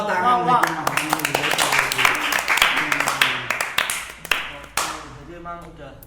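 A few people in a podcast studio clap in sharp, irregular bursts, mixed with lively talking and exclamations, with the claps thinning out toward the end.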